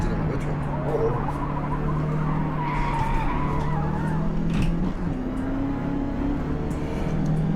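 A car driven in Forza Motorsport with a Hori seven-speed racing shifter, engine droning steadily throughout with tires skidding and squealing, a voice speaking faintly underneath.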